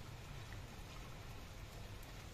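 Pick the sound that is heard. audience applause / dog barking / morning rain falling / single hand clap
morning rain falling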